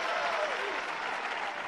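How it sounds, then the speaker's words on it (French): An audience applauds at an amateur wrestling show, a dense, steady wash of many hands clapping at close range, with faint voices mixed in. "Et le public applaudit."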